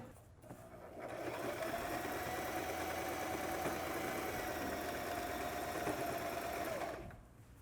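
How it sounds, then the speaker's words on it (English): A sewing machine running a basic straight stitch on curtain fabric, a steady mechanical whir that starts up, holds an even hum for about six seconds and then winds down, fairly quiet and close. "I'm just going to sew those two together using a very basic straight stitch"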